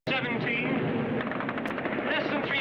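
A MiG-17 jet strafes the ground from about 300 feet, a dense, loud roar laced with rapid pulsing bursts like gunfire, continuous throughout.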